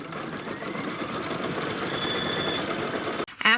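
Embroidery machine stitching a tack-down line on felt laid over the design, with a rapid, steady mechanical stitching rattle heard up close for about three seconds, then a sudden stop and a short burst of handling noise.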